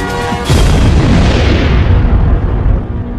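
A supernova explosion rendered as a sound effect hits with a sudden deep boom about half a second in, then rolls on as a loud, sustained rumbling blast that slowly fades.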